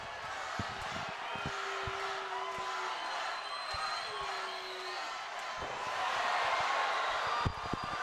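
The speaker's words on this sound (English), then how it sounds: "Crowd getting behind their man." A crowd at an amateur MMA fight cheers and shouts steadily in a hall, a continuous roar swelling toward the end, with commentary talk over it and sharp thuds now and then.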